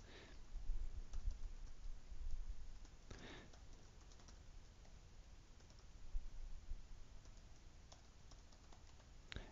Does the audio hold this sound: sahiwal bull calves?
no